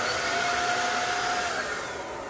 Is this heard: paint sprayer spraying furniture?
yes